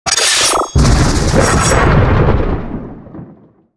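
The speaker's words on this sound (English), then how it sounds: "I like the thunder and the clap of lightning that you do." A sharp crack leads into a loud booming thunder roll that rumbles and fades away over a few seconds.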